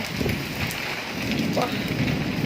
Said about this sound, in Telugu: గట్టిగా ఉరుముతున్నాయి